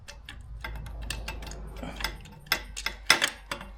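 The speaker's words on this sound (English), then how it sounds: "Slide the bolt out." A bolt is worked out of the brake pedal on a KTM 890 SMT motorcycle, producing a run of small metallic ticks and clicks close up, sharper clacks near the end, with no talking.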